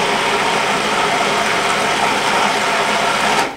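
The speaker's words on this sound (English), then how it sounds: "And then just blend it up in your food processor." A food processor running steadily at close range while blending chocolate mousse ingredients, including ripe banana and vanilla extract, a loud continuous mechanical whir that holds for several seconds and then cuts off abruptly.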